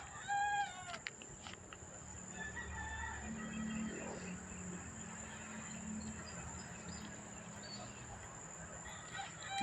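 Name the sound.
birds calling in the dark before dawn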